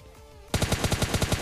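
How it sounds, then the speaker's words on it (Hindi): Automatic gunfire in the PUBG Lite mobile game, a rapid burst of about ten evenly spaced loud shots starting abruptly after a brief quieter lead-in, each report sharp and close. "तो मैं यहाँ पे रैंडमली फायर कर देता हूँ ताकि भाई बंदा अगर नॉक वगैरह हो तो भाई उसका किल भी मेरे को मिल जाए"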